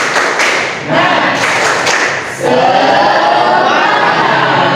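A school class performs a rhythmic spirit clap with a few sharp, patterned claps and thuds at first, then a dense, loud burst of many children clapping together at close range.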